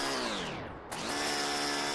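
A power drill in a video game whirs loudly and steadily, its pitch dipping and rising back up near the middle, close and alone with no talk.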